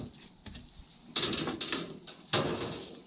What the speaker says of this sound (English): We might as well just knock them in place right now.